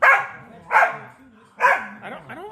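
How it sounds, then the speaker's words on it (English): A puppy lets out three sharp, close barks spaced roughly a second apart, followed by a pair of softer, higher whining yips at the end. "I don't understand why you're barking."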